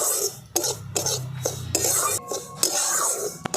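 A spoon scraping and stirring semolina being dry-roasted lightly in a pan, with close, gritty rubbing strokes and occasional metallic clinks, steady and moderately loud with no talking.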